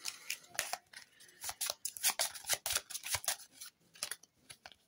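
Playing cards being riffled and mixed by hand during a card game, a rapid run of crisp flutters and snapping bursts, close and fairly loud, with no talking.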